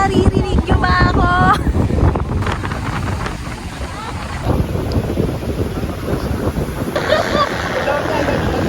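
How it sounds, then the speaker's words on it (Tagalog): Strong beach wind buffeting a phone microphone, a loud continuous rumble and roar that runs the whole time under someone talking, with brief high tonal bits near the start. "sobrang hangin"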